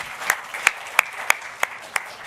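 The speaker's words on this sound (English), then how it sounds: "A round of applause for Louise." Audience applause for Louise, a brief round of clapping with a steady rhythm of distinct, fairly close claps.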